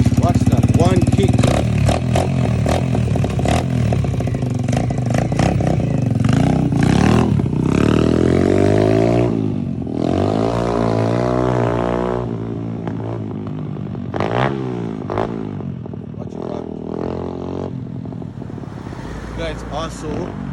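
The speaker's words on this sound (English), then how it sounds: "Guys, also the sound of the exhaust and everything changed." 2023 Evo 150cc dirt bike engine and exhaust after a kick start, upgraded with a racing carburetor and 17T sprocket: loud, steady idling and revving close by, with people talking over it throughout.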